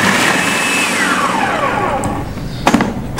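An electric chopper whirs loudly and steadily as it chops garlic and meat for Peshawari chapli kabab, its motor pitch sliding downward as the load shifts, ending with a couple of clunks.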